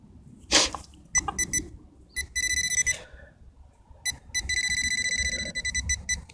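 A Makro Racer metal detector beeps in short bursts and longer sustained tones while sweeping a field, with scraping and rustling noises in between and one sharp knock near the start.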